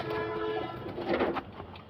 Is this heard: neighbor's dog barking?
no